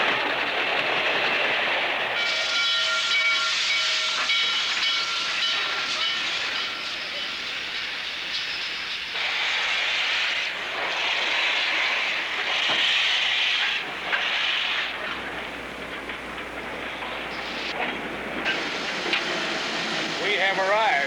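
A modern coal-burning steam locomotive standing in a station, letting out a loud sustained hiss of steam with rail clatter and shifting tones, a voice briefly audible beneath.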